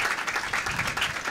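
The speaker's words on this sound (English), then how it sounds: "I really want you to give them a big round of applause for being here this" An audience gives a round of applause for schoolchildren at an outdoor floral tribute ceremony, a soft, fairly distant spatter of clapping over a brief moment.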